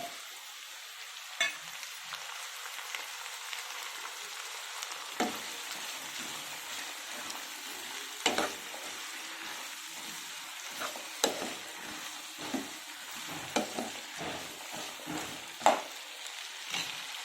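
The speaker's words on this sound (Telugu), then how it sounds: "ఇప్పుడు బంగాళదుంప ముక్కలు కూడా వేసేసుకున్నాము." Potato pieces fry in a pan with a soft continuous sizzle, broken by scattered scraping and tapping as a utensil stirs them, close but fairly quiet, no voices.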